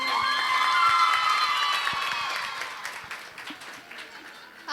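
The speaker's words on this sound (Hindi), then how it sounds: "आप सबकी भरपूर तालियों में मैं बुलाना चाहूँगी क्लास 9th की वरीशा को" Audience applause and cheering at a school Teacher's Day celebration, a dense crowd of children clapping and whooping loudly, then gradually thinning out.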